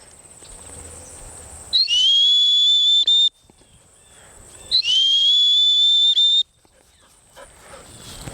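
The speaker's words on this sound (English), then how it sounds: "she's coming back to that hunt whistle" Two long, shrill blasts of a hunt whistle used in bird dog training, each rising sharply then holding steady for over a second, separated by a quiet gap with faint outdoor background.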